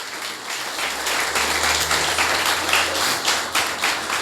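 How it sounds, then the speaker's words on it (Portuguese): Audience in a church giving a sustained round of applause during a worship service, dense steady clapping filling the space throughout, with no voices over it. "Dá uma salva de palmas para o Senhor."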